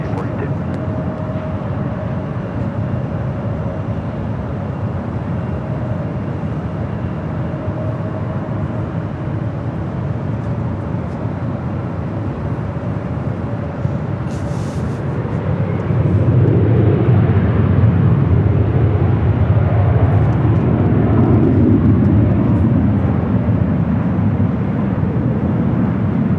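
An airliner takes off from runway 24 Left at Los Angeles International Airport. A steady, loud jet roar builds and swells in the later part, with voices faintly underneath.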